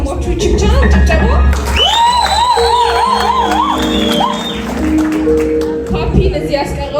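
An audience at a live music performance cheers and whoops loudly, with a dense crowd roar and shrill, rising calls held over steady noise for the whole stretch.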